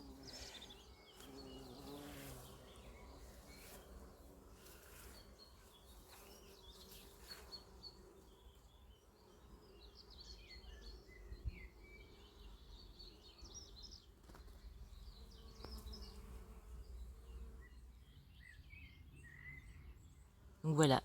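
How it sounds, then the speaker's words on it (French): Insects buzz softly through a garden of aromatic and medicinal plants, including nepeta, with a faint steady hum, occasional wingbeat flutters and distant birdsong, and a sharp knock at the very end. "il y a un bourdonnement ambiant là avec toutes les plantes aromatiques et médicinales"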